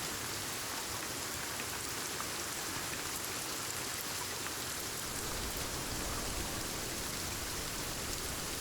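Steady rain falls in the forest of the video game Sons of the Forest, a soft, even hiss with faint scattered drops, continuous throughout and fairly quiet.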